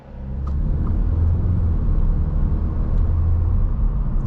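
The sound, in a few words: 2024 Audi S3 engine and turbo pulling away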